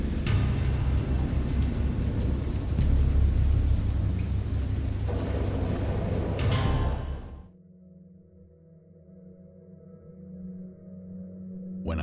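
A loud thunderstorm with heavy rain, dense rumbling and rolling thunder for about seven seconds, then cutting to quieter, steadier low rumble with no talk.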